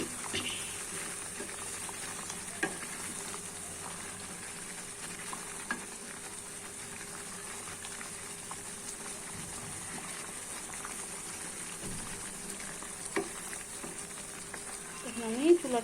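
Green chili pickle with vinegar is stirred in a pan over a faint, continuous low sizzle, with occasional soft scrapes and clicks. It stays quiet throughout.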